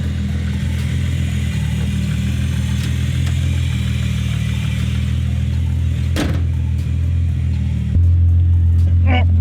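A Nissan R34 GTR with a 2.8L big-turbo HKS engine rated at 550 kW runs loud and close, a steady heavy idle rumble with a sharp blip near the six-second mark and a deeper surge toward the end.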